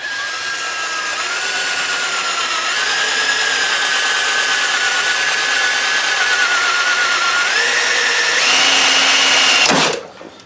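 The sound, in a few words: drill boring into hard copper pipe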